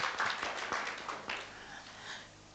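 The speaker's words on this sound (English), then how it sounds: "Round of applause for her." Applause at a leadership coaching indaba, scattered claps from a modest audience, fairly quiet and fading over a couple of seconds.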